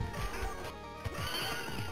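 A horse whinnies in the 1991 arcade game Knights of the Round, a loud cry over dense, busy game music and effects.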